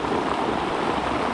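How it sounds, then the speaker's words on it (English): Steady rain pours down outdoors at a brush pile during a cold, wet catfishing outing, a dense continuous hiss filling the scene with no breaks and no voices. "It's raining pretty good out here."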